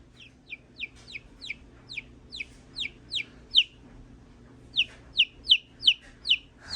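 Backyard chickens give repeated sharp, high peeping clucks in quick bursts, a steady run of calls, then a short pause and another cluster, fairly close against quiet background noise.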